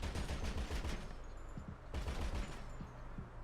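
Rapid heavy gunfire from a big cannon in a free-roam video game, heard as quick bursts of repeated thuds in two volleys with a brief pause between, faint and without talk.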